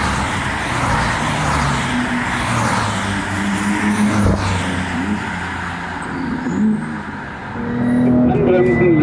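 A BMW M4 on the Bilster Berg race track gives a sustained engine drone that rises and shifts in pitch as it accelerates, heard from inside the car with someone talking over it.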